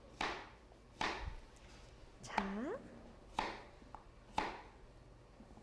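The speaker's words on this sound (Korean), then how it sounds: "오이도 양 끝을 제거한 상태에서 우리가 믹서기에 팍팍 갈아줄 거기 때문에 그냥 적당한 크기로 썰어줍니다." Several sharp, evenly spaced knife chops through cucumber on a cutting board, fairly quiet and close, with a short spoken word between cuts.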